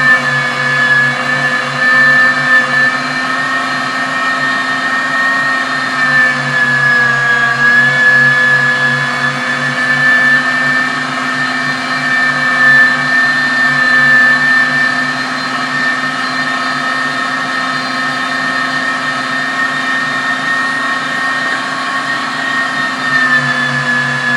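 An electric grinder runs steadily as chunks of diced carp are fed through it for sausage, a loud, unbroken motor whine with a constant hum that barely changes for over twenty seconds, with no talking.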